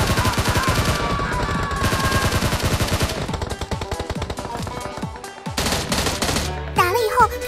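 Automatic gunfire from a battle royale video game, fought around a floating island: rapid, loud bursts of shots run almost without pause, with brief gaps and some tonal game effects near the end.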